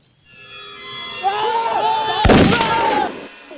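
A loud burst of gunfire crackles over a tense movie soundtrack, a sharp volley of shots amid rising music and effects.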